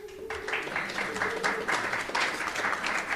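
An audience at a school board of education meeting applauds, a steady crowd clapping that persists throughout, with some voices and cheering underneath.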